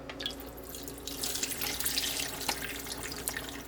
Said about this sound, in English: we just got to pour all the juice right on inside